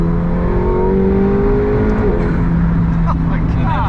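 A 1,000 HP McLaren 720S supercar accelerates hard at part throttle, its engine note rising and shifting in a loud, continuous drone heard from inside the cabin, with voices over it.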